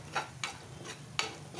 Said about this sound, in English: we'll fry the masala really well